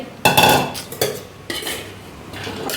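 A metal spoon scrapes and clanks in a pan while Schezwan fried rice is stirred, giving a few sharp, close clatters spaced about half a second apart over a faint sizzle.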